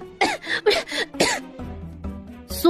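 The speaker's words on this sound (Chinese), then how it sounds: "苏月瑶被呛得一直咳嗽。" A woman coughs in a short series of harsh bursts after choking, close and loud, followed by a softer throat sound.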